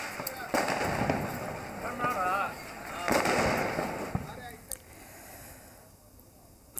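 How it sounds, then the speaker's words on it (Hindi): Fireworks and firecrackers burst during Diwali celebrations in a neighbourhood in Patna, with several sharp, loud cracks and bangs spread through the clip over a crackling background, while people talk. "दलित बस्ती में गए और वहां पर भी उन्होंने जमकर आतिशबाजी की, पटाखे फोड़े।"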